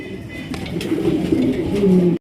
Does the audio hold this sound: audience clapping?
no